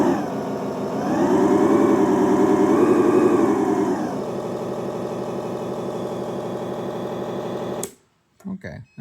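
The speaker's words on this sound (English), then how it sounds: "I have installed already the Volvo L120 loader sound profile on it" A soundboard plays a Volvo L120 wheel loader engine profile: a low diesel idle rises into a loud rev, settles back to a steady idle, then cuts off abruptly.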